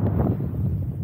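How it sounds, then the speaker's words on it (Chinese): Strong wind buffets the microphone beside San Luis Reservoir in a mountain valley in California, a close, low, uneven rumbling gust with no voices. "今天这个风很大"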